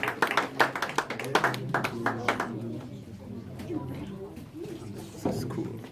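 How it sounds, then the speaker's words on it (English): Scattered clapping from a small gathering at an Igbo community event in Frankfurt am Main, with sharp distinct claps early that thin out as talk and murmuring take over. "Round of applause."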